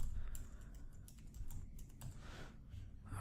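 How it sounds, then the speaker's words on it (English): Rapid typing on a computer keyboard, steady close keystrokes clattering continuously over a low background hum, with no speech. "let's type US instance"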